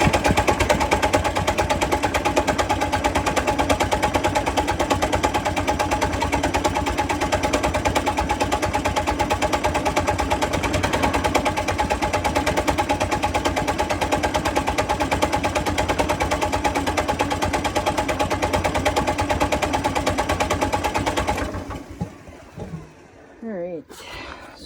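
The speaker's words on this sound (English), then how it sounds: "I'm gonna try cranking this thing up and see if it goes with the battery configuration that we have here" A dozer's diesel engine cranks over on its starter with a heavy battery setup, a loud steady mechanical whirring drone for about twenty seconds before it stops, leaving faint clunks and a quieter tail.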